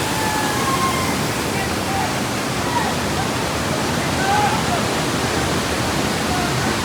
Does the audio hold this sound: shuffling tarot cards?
no